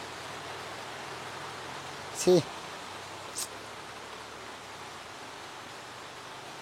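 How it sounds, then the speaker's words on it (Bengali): Heavy rain pours steadily outdoors during a bike video shoot, a continuous broad hiss throughout, with a brief close voice exclamation and a short click breaking in partway. "আস্তে আস্তে এত জোরে বৃষ্টি শুরু হয়ে গেছে"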